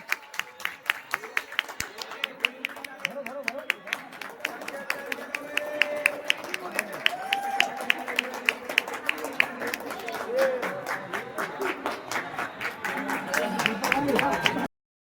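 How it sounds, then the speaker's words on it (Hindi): Wedding guests clap in a steady rhythmic beat, sharp repeated claps running for about fifteen seconds under music and voices. "तालियां तालियां हो जाए।"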